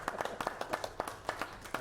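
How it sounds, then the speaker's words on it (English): Scattered hands clapping at a town board meeting, a small group giving brief, uneven applause with distinct individual claps at moderate distance, fairly quiet in the room. "And now, clap for everybody because good job"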